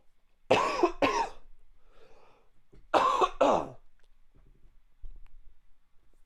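A person coughing in two pairs of harsh, close coughs with quiet pauses between, followed by faint throat clearing, with no talking.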